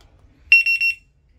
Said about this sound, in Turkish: Çok da güzel güçlü bir korna sesi var.